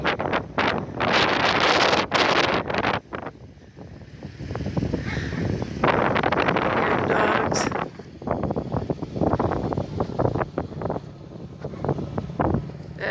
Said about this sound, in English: It's getting really windy and cold.